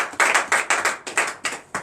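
Hands clap in a steady rhythm of about eight sharp claps in acclaim during a morning prayer gathering, moderately close, with no speech over them.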